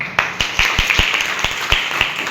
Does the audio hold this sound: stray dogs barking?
no